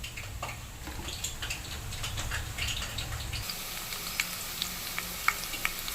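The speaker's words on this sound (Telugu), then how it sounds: "ఎర్రగడ్డలు బాగా ఫ్రై అవుతున్నాయి" Onions frying in a pan with tamarind and green chillies nearby, a steady close sizzle with a low rumble early on, then scattered crackling pops, no talk.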